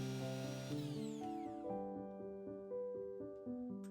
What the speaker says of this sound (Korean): 계란 노른자를 분리해 설탕을 넣고 아이보리색이 될 때까지 핸드 블렌더로 섞어주세요.